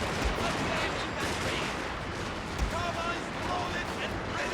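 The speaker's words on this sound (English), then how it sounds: "we're getting raked by cannons needlessly" Cannon and Gatling gun fire in the Battle of Hakodate from the strategy game Fall of the Samurai, a dense, continuous roar of distant gunfire with a couple of heavier booms, mixed under a talking voice.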